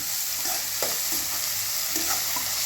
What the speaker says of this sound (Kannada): ಈಗ ಎಲ್ಲ ಚೆನ್ನಾಗಿ ಫ್ರೈ ಬಿಡ್ತೀನಿ ರೀ